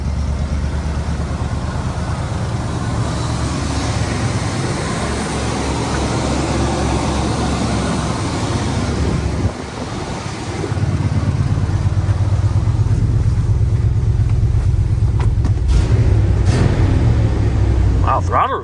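Chevy plow truck engine running steadily after a new fuel filter, a close low rumbling idle that briefly dips and then returns slightly louder and rougher.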